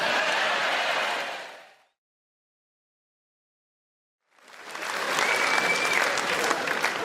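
A stand-up comedy audience breaks into loud applause that fades out, followed by a stretch of silence before a second burst of clapping swells back up.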